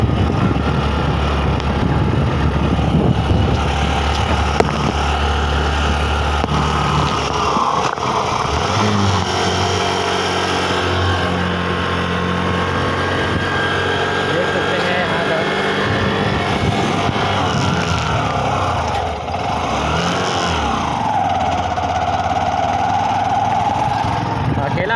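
A motorbike engine hums and drones continuously while climbing a ghat road up to a hilltop park, changing pitch as the rider works uphill, with someone talking over it.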